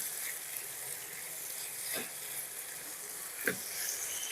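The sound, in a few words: stirring frying bottle gourd stalks in a pan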